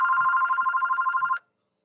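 A telephone rings for an incoming call, one continuous warbling electronic trill lasting just over a second, loud and close, then cutting off to silence.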